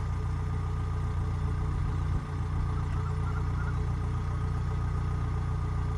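A harvester's engine drones steadily nearby at an idle-like pitch as it pulls up alongside a tractor, loud and continuous with a brief dip partway through.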